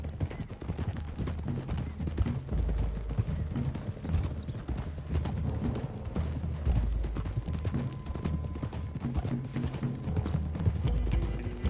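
Horses gallop in Red Dead Redemption, a steady rhythmic clip-clop of many hooves with the occasional whinny, loud and continuous over a low rumbling background.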